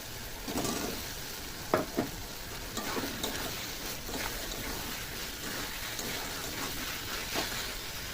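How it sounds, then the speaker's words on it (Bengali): Potatoes sautéing in a fried spice masala, a soft continuous sizzle with occasional scraping stirs and a couple of sharper utensil knocks. "আলুটা কিন্তু কষানো হয়ে গেছে একটু"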